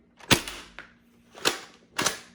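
An Adventure Force Conquest Pro foam blaster fires three sharp, close shots into a chronograph, each a quick pop with a brief mechanical snap, spaced irregularly about a second apart.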